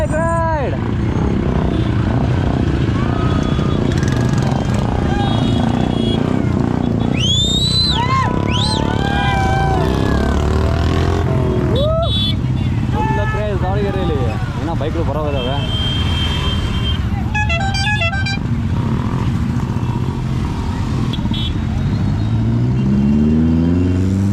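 Many motorcycles drone in a Mahaganapati bike rally in Davanagere. A loud, continuous engine rumble runs throughout, with revving, shrill whistles and crowd voices shouting over it.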